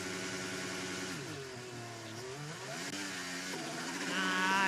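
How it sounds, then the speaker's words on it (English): Formula 1 car at a practice start during pre-season testing in Bahrain, engine revving loud and high, pitch rising and falling with the clutch dragging, ending in a sharper climbing rev. "you can hear the clutch sort of dragging away, and then revs just going up and down in the gearbox"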